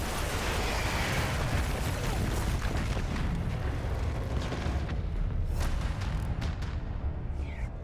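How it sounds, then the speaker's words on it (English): Grenades explode in Dirty Bomb as a dense, continuous, rumbling roar of blasts. A few sharper cracks stand out near the end. "Have to drop grenades in there."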